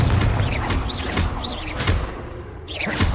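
Confringo fire-spell blasts in the Hogwarts Legacy video game, several sharp bursts with whooshing tails in quick succession, loud and close over a busy combat soundscape.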